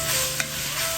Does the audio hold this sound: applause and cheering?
no